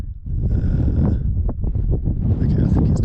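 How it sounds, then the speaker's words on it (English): Strong gusty wind buffeting the microphone on an exposed mountain ridge in the Southern Alps, a loud continuous low rumble with someone talking over it throughout. "I'm just going to face you here for a second until this wind goes away."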